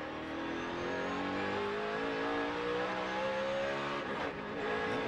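A NASCAR race car at the 2005 Allstate 400 at the Brickyard roars past with a rising then falling engine pitch, loud and close, over steady crowd and track noise, with no talk.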